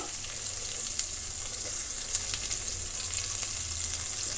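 Green chillies and lentils frying in a pan with asafoetida, a steady, even sizzle holding close and level throughout, with faint scattered crackles and no talking.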